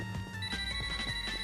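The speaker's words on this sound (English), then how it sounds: "And my phone's going off again." A mobile phone goes off with a steady electronic ringing tone, moderately loud and continuous over busy video game music and sound effects.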